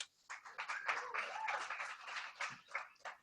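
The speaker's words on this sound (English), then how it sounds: "So big round of applause." Audience at a Kubernetes meetup hosted at Salesloft in Atlanta claps and applauds for an upcoming speaker, a short, dense burst of many hands at moderate level, fairly close.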